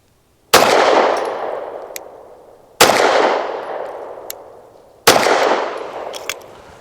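Three loud, close gunshots from a Bersa M2XI pistol firing SIG 365 115-grain ammunition, spaced about two seconds apart, each a sharp crack followed by a long decaying echo outdoors.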